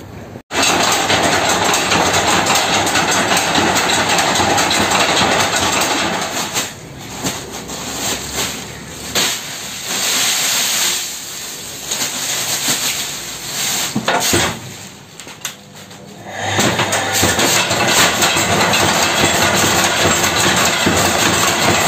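A flour mill machine grinding roasted Malvani masala makes a loud, steady, close roar that dips briefly a few times before surging back at full strength.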